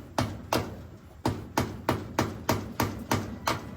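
A hammer strikes about ten times in a steady rhythm, sharp and close, while a goat waterer is being built.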